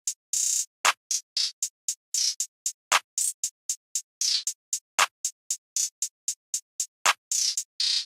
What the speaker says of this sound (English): I just had this basic clap pattern and it sounds like this.